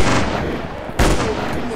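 A gunshot lands a headshot in the mobile shooter Special Ops 2020. Loud continuous gunfire and game noise are cut by a sharp, close report about halfway through, with a voice briefly present.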